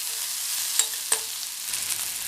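Garlic and onion sautéing in hot oil for a Tamil chow chow (chayote) dish, a soft steady sizzle with two brief stirring clinks near the start, close and even throughout.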